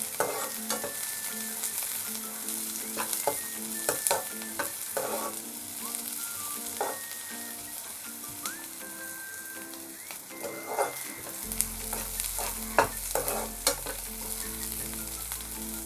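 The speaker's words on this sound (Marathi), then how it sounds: "आता त्याच्यामध्ये मिरची टाकते, लसूण टाकते, मिक्स करून घेऊया" Chili and garlic are fried and stirred into reddened onion in a pan. A steady sizzle continues throughout, and scraping stir strokes come through close up with no voices.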